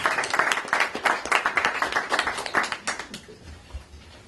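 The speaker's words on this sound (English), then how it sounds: "Let's give him a round of applause." Audience applause at a Turkish Cultural Center meat drive event in Manhattan, a dense burst of clapping from a room of people that stays steady, then thins out and fades over the last second.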